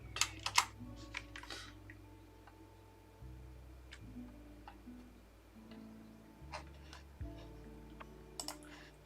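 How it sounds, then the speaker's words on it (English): Computer keyboard typing comes in quick bursts of close, crisp key clicks separated by short pauses, heard against a quiet background hum with no one speaking. "What if I type in Trent?"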